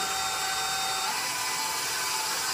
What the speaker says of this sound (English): So I'm going to turn that on and let that start whisking.